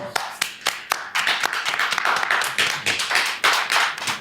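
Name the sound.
applause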